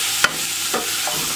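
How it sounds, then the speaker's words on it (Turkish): Zucchini sautéing in a pot, a steady soft sizzle with a few brief scrapes of stirring; no talk. "Kabakları da 1-2 dakika kavuracağım."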